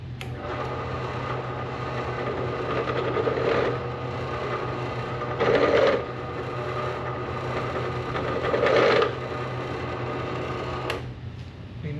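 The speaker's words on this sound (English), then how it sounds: "countersink a couple of holes" A machine countersinking holes in 6061 aluminum door pulls, giving a steady motor hum with louder grinding cuts in short bursts at about 3, 5.5 and 9 seconds.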